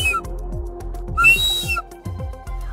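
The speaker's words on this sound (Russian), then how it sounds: "Вот такая вот громкая дудочка." A loud toy pipe whistle sounds in short, shrill toots, with one longer, louder blast in the middle, over a low rhythmic thumping in the background.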